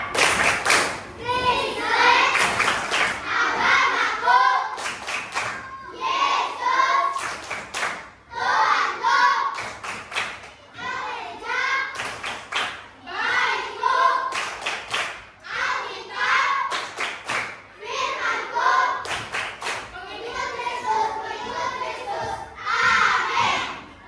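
Children in an Indonesian Christian religion class perform the Tepuk Kristen clapping game, sounding rhythmic bursts of clapping mixed with their chanting voices throughout, loud and close in a classroom.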